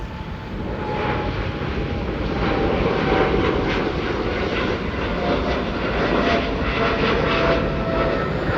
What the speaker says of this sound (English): the Air India 777-300 with Celebrating India livery is taking off now